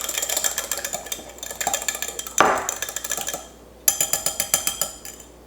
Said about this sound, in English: And then we're going to whisk this up again.